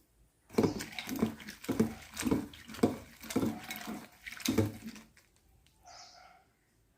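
Tamarind is washed in water with a series of rhythmic splashing, squelching swishes, about eight close strokes in a row, followed by a brief quieter drip-like patter.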